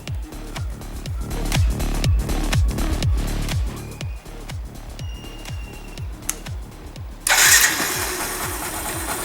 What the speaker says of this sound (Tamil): ஸ்டார்ட் ஆகிடுச்சு. பர்ஃபெக்டாக ஒர்க் பண்ணுது இன்ஜின்.